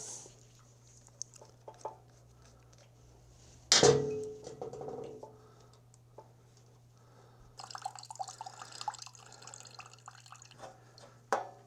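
Fuel drains from the carburetor bowl of a Generac GP5500 generator that won't start: a sharp metallic clank as the drain screw is loosened, then a faint trickling and dripping, close up in a quiet workshop with a low steady hum beneath.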